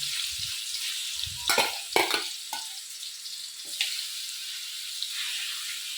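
Chicken pieces coated in chilli and turmeric sizzle in hot oil, a constant hiss with several louder bursts and scrapes as the meat is turned early on.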